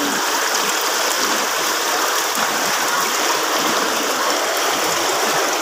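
Strong floodwater from Typhoon Carina rushes downhill through a flooded Philippine street, a loud, steady broadband roar of churning water that never lets up, with no voices over it.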